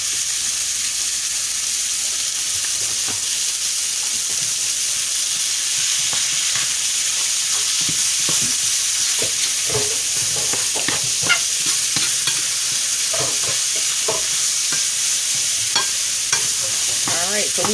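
Beef patty filling of ground meat with chili powder cooking in a pan, a continuous loud sizzle broken by frequent scraping strokes of a spoon stirring the mixture.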